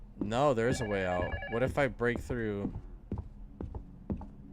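A telephone rings downstairs in a horror video game. The repeated bell pattern sits under someone talking and keeps sounding after his voice stops.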